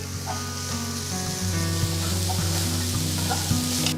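Finely chopped onions, carrot and cabbage sautéing in a hot pan with a steady, close sizzle and occasional stirring scrapes, alone without talk.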